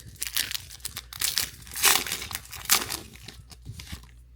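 Foil wrapper of a 2026 Topps Chrome trading card pack crinkling and tearing open up close, a run of sharp rips and crackles with louder bursts in the middle, no voices.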